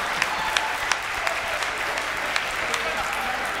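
Warm applause from the audience at a Hindi poetry recital, a steady wash of clapping with a few sharper claps standing out, continuous through the moment.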